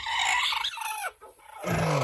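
A hen clucking near eggs of king quail she has been set to brood, a few close, loud vocal calls broken by a short quiet gap, then another call.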